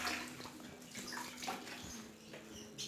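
A toilet flushes during bathroom cleaning, with faint, uneven rushing and splashing water and no voices.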